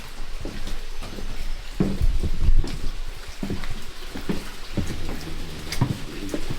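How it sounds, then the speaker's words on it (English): Water dripping and pattering inside a deep copper mine tunnel, a steady rain-like patter of drops with scattered louder splashes nearby, continuous throughout with no talking. "Water dripping."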